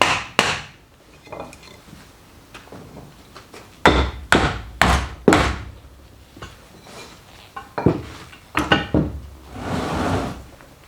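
Several sharp, resonant wooden knocks come in uneven bursts as a mallet drives pegs into reclaimed railway sleeper timber, close by with short pauses between strikes.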